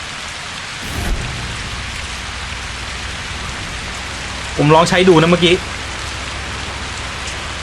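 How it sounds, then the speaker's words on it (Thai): Steady rain falls in the driving game Keep Driving, a constant wash of patter with a low rumble near the start. Someone speaks briefly partway through. "ฉันหวังว่าฝนมันจะหยุดในไม่ช้านี้นะ"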